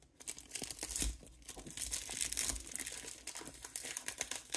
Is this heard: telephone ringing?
no